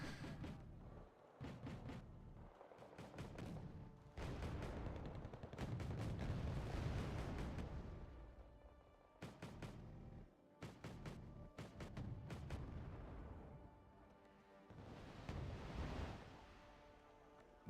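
An artillery barrage in the real-time strategy game Wargame: Red Dragon lands as clusters of heavy, rumbling explosions, booming in quick repeated bursts with short gaps between volleys. The blasts are distant and fairly quiet, and no one talks.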